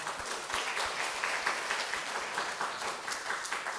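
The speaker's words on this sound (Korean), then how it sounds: "자, 박수해 주세요." Congregation applauding during a church sermon, a sustained, even patter of many hands clapping at moderate volume, continuing steadily without speech.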